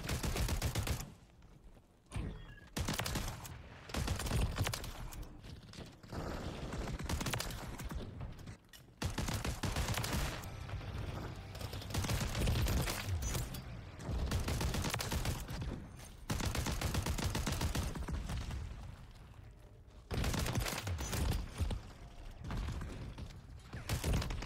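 Rapid shotgun blasts from a first-person shooter game, the gun fitted with a Jak Jawbreaker conversion kit. Dense, loud volleys of shots repeat almost without pause, with a few brief gaps.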